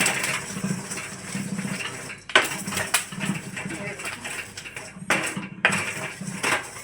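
Roasted black chickpeas being rubbed and stirred in a kadai, a loud close rattling and scraping of hard grains against metal in repeated strokes with brief pauses.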